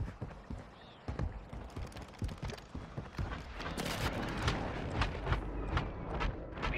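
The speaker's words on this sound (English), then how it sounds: "Enemy precision airstrike." Enemy precision airstrike explosions during a Rebirth Island match in a video game, a rapid series of booms and cracks that builds over several seconds, dense and fairly loud with no talking.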